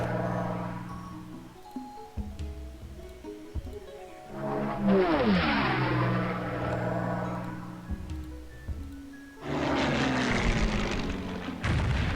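Propeller-driven Blackburn warplanes droning past in a Second World War scenario of Civilization III, a steady engine roar rising into a loud sweeping pass midway, then a second burst of heavy noise near the end, with no talk.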